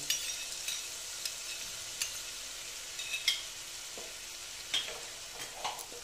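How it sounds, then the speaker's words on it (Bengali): Yogurt is stirred into spices in a pan for a chital fish curry, a soft continuous sizzle broken by irregular scraping and tapping strokes of a spoon against the pan. "দইটাকে ভালো মতন মশলার সঙ্গে মিশিয়ে নেব"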